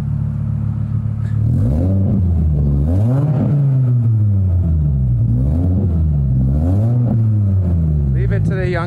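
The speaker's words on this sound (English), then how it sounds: "I should have just left the exhaust cracked, because now it sounds like this." A loud cracked exhaust on a 1996 Volvo 850 rumbles and revs repeatedly, the deep engine note swelling and dipping in waves for several seconds up close.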